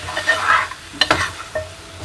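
Drumsticks sautéing in a pan being stirred, close scraping strokes and a few sharp clinks over a light sizzle.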